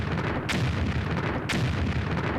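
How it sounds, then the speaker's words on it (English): Repeated explosions blast from Jabba's sail barge during a desert skiff escape in Disney Infinity 3.0, with two sharp bursts over a continuous loud rumbling battle roar. "a good view of the explosions in the background"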